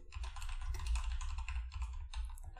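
Code is typed on a computer keyboard in a rapid, continuous run of close, crisp keystrokes with brief pauses, clear and alone.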